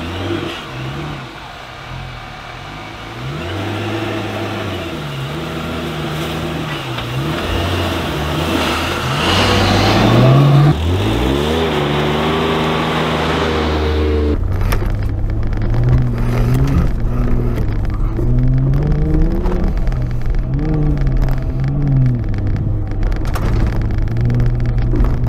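A supercharged Jeep Gladiator pickup drives through snow, its engine droning and revving up and down in a loud, continuous rise and fall, with louder acceleration midway and no talking.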